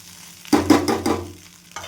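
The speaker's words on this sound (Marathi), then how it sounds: "त्याच्यामध्ये आता भात टाकून घेते आणि छान परतून घेते" Cooked rice and peas tossed and stirred in a hot pan, with a couple of brief bursts of scraping and sizzling over about a second, then quiet.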